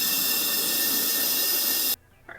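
Compressed air nozzle pushed into a spark plug hole to blow out gasoline-filled engine cylinders on a Ford F250, a loud steady hiss that cuts off abruptly.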